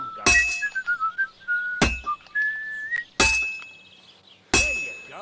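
A sword is hammered on an anvil in Kingdom Come Deliverance 2, four loud ringing metallic strikes spaced a second or so apart, while a person whistles a tune between the blows.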